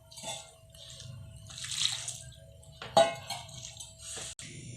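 Water is stirred into kadhi pakora batter in a bowl, with soft wet sloshing and scraping, a couple of sharper clinks of the spoon, and no voices.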